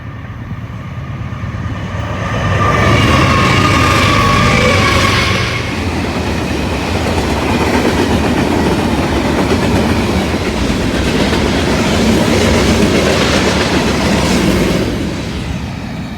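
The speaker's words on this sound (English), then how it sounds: "The first train was a Norfolk Southern Manifest with a C6M leading and GEVO trailing" A Norfolk Southern manifest freight train with a C6M locomotive leading and a GEVO trailing rolls past nearby, a loud steady rumble with clickety-clack of wheels over rail joints throughout.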